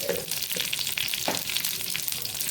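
Curry leaves and mustard seeds sizzle and crackle in hot oil in a pan, giving a steady, bright frying hiss throughout with small pops.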